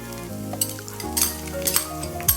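Ginger and split garlic hitting hot oil for a Kottayam-style fish curry, a steady loud sizzle with a few sharp crackles and utensil scrapes, no talking.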